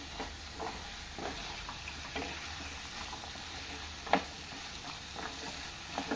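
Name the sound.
frying chickpeas with tomatoes in a pan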